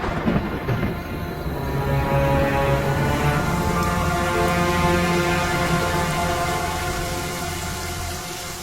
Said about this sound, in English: The thunder echoes and re-echoes in the vast, empty stone chamber, making a sound that is quite overwhelming.